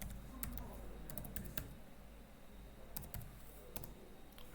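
Someone types on a computer keyboard: quiet, quick clusters of key clicks with short pauses between them, set against a soft room hiss.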